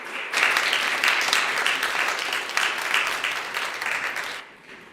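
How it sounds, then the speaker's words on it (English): Applause from a church congregation for a new minister at a Sunday service, a dense steady wash of clapping that holds for about four seconds before fading out. "Big round of applause"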